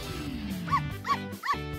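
A cartoon dog gives three short, high, whimpering yips at an even pace, following a falling tone and set against a steady musical background.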